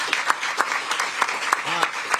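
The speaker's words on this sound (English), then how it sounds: "Let's give another round of applause for our county executive." Applause for a county executive at a public crime-prevention event in Syracuse, New York: brisk crowd clapping with sharp individual claps, loud and close, a voice speaking briefly partway through.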